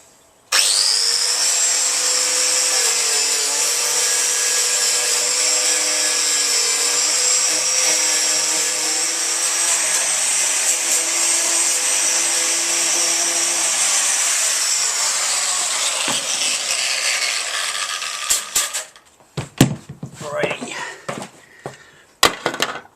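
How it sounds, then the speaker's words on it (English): An angle grinder fitted with a soft disc grinds paint off metal, a loud, sustained high whine lasting nearly twenty seconds before winding down into scattered scraping and knocking. "Just going to grind all the paint off, get it ready to accept some tacking."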